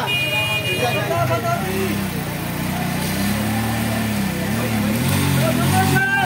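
A loader's engine hums steadily as it approaches through a crowded market street in Shikarpur. The low motor drone runs continuously beneath overlapping voices of people talking nearby.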